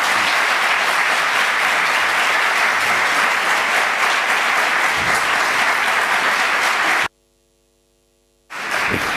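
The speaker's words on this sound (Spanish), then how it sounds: "Les pido un aplauso de bienvenida a don Benigno Blanco" Loud, steady audience applause at a Newman Seminar university lecture, welcoming speaker Benigno Blanco, running continuously for about seven seconds before a sudden dropout to silence, then resuming briefly.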